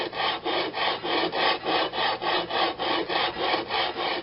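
A Briggs primer plate is rubbed back and forth on 80 grit sandpaper laid over a heavy, flat quarter-inch steel plate. About a dozen even, rhythmic rasping strokes sound up close, steady and fairly loud, with no voices.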